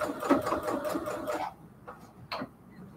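A sewing machine stitches a quilted pillowcase in quick rhythmic bursts with short backstitching pauses, close and clear, then falls quiet apart from a few faint clicks.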